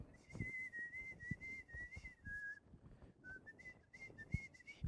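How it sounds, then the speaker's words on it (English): A person whistles a wavering, sustained tune without moving the mouth, the thin pure tone gliding up and down over several seconds, quiet and close against faint room noise and soft thumps, with no talking. "I could whistle without moving my mouth."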